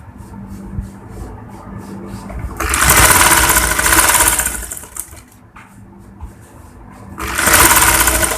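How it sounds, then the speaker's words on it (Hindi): A sewing machine stitching a boutique-style kurti, starting from the shoulder seam, whirs loudly in two long bursts separated by a quieter pause, close up. "हम कंधे की तरफ से सिलाई स्टार्ट कर रहे हैं।"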